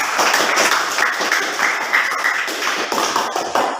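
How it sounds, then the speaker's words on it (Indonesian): A classroom audience applauds a presenting student group, steady dense clapping filling the whole stretch at close range with no talk over it. "kita kasih tepuk tangan untuk kelompok 4"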